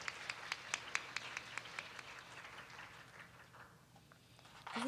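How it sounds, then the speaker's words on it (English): Applause for presenters at a Ruby programming conference, a scattering of distinct, fairly quiet claps from a small audience that thins out and dies away after a few seconds. "Please give them a big hand of applause."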